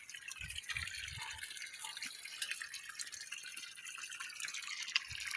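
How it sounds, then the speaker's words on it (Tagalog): Steady rushing water with a hiss of splashing, like a heavy drip or trickle falling close by from a solar-powered water pump, with a few low thumps early on. "Grabing tulo oh."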